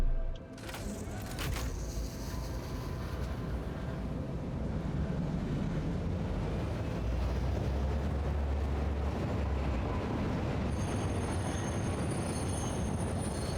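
A train in the factory-building game Satisfactory rumbles steadily along with a low continuous drone and rolling noise, loud and alone for the whole stretch.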